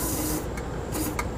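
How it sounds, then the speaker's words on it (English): Short hissing bursts of priming spray aimed into a small engine, two quick puffs over a steady background hiss, close by. "I'll prime it with my spray"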